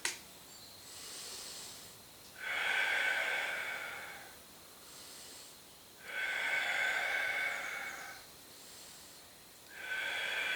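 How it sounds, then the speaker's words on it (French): Slow, steady breathing during a Pilates exercise, drawn in through the nose and let out through the mouth, with three long airy breath cycles close to the microphone, each exhale hissing louder than the soft inhale. "on inspire par le nez et on expire par la bouche"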